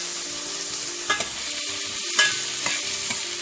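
Onions sauté in a pan over a medium flame for a palak paneer, with a steady sizzle and occasional scraping stirs from a spoon. No one speaks.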